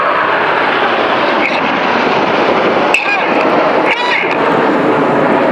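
Red Arrows jets roar through a loop at the Malta airshow, a loud broad continuous rush with brief sharper bursts as the aircraft pull up.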